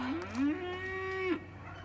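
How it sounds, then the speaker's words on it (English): A cow in a pasture gives one long, clear moo that rises and holds steady before breaking off, fairly close and loud over a quiet outdoor background, with no talking. "My cow's having issues over there."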